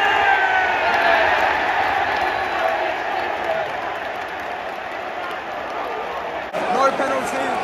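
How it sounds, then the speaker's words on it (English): A large football crowd at a West Ham v Spurs London derby in the stadium roars and claps continuously, a dense wash of noise that swells briefly near the end. "crowd are lively now"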